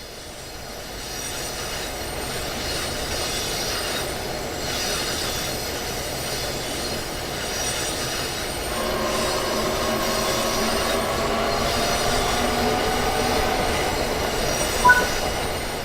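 An Arrow III electric multiple unit train coasting in Train Sim World 6, a steady rumbling rail roll with soft wheel noise that swells slightly midway, no voices.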